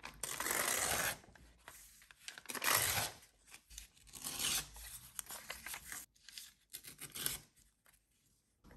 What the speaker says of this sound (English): Maybe I should just tear around it and then glue it on top.